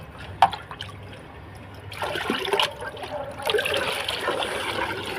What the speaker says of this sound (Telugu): ఇప్పుడు ఈ గంజిని బకెట్ వాటర్లో కలిపేసుకున్నాం అనుకోండి